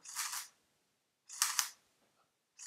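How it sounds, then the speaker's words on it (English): Mechanical shutter curtain of a Sony Alpha 7S full-frame camera firing twice, each a crisp close mechanical clack-clack about a second apart, with a third starting at the end; no voices. "when I press the shutter release, you will see there's the mechanical curtain"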